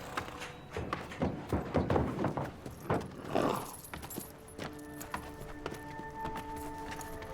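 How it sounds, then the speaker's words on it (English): Hooves clip-clop and thud irregularly on hard ground as bay horses move about, with jingling tack and light metallic clinks, fairly close. "Chico, Jeff, sort these bay horses out, would you?"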